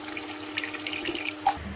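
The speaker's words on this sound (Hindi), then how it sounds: "कुकर में आधा लीटर पानी डालेंगे," Water pours into a pressure cooker for boiling jackfruit, a close, steady, splashing stream that cuts off abruptly near the end, with no talking.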